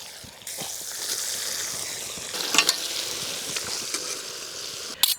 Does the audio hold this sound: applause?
no